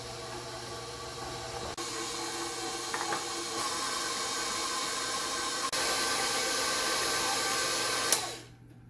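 An electric mixer running on slow speed mashing boiled potatoes, a steady whirring motor hum with faint rattling, continuous for several seconds before cutting off abruptly.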